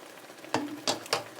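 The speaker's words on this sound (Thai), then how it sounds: "ผัดให้ไก่สุกค่ะ" A wok sizzles steadily while a spatula scrapes and tosses chicken three times in quick, uneven strokes, close and moderately loud.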